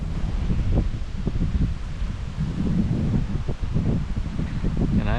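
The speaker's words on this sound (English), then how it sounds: "Pretty windy." Steady gusty wind rushing through leaves and branches around a high hunting perch in Kansas, with rustling bursts and some microphone buffeting throughout.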